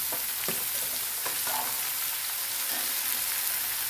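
Onions, tomatoes and green chillies fry in a pan for a prawn roast, giving a loud, continuous sizzle with a few sharp stirring scrapes near the start.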